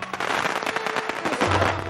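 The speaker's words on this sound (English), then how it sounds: "that is the sound of the firecrackers." Firecrackers go off in a fast, loud chain at a Chinese New Year celebration, sharp pops rattling in quick succession at close range with no talking.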